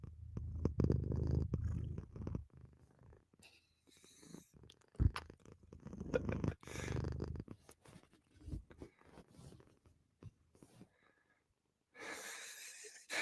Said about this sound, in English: Hopefully you can hear the purring.